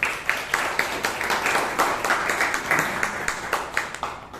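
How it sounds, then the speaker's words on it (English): A room of Toastmasters meeting attendees claps together, moderately close and lively, with distinct individual hand claps standing out in a quick, uneven rhythm throughout. "Let's give a huge round of applause."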